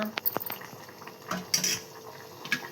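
Eggplant curry ingredients being stirred in a pan, with a few soft scrapes and light utensil clinks against the metal over a quiet sizzle, intermittent and close.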